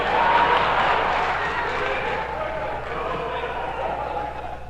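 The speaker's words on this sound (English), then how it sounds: "you girls clap your hand when I said that" Women in an audience at a 1972 lecture clap their hands in a sustained, dense wash of applause that holds steady at moderate loudness, with crowd murmur mixed in.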